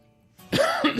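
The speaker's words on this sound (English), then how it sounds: "I'm sorry if I'm coughing through this one." A person coughs sharply a couple of times close to the mic after a short quiet stretch, with harsh, throaty bursts and no speech.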